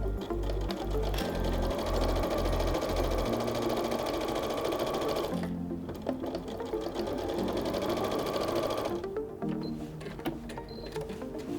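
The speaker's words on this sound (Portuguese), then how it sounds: "a gente vai passar uma costura novamente usando o nosso pezinho de vivo, costurando" Sewing machine with a piping foot stitching a fabric bag, a fast continuous mechanical whir close by that runs nearly throughout and eases briefly twice.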